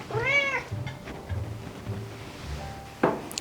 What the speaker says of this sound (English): This cat loves some cornbread, y'all.